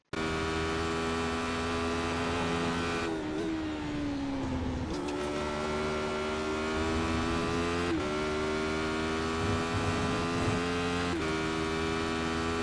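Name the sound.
SR8 race car engine lapping Silverstone, racing sim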